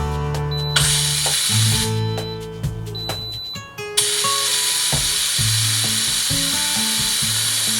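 An Instant Pot Max electric pressure cooker performs its automatic quick release, blasting bursts of loud rushing steam hiss broken by a short pause, with small electronic beeps and clicks around the venting.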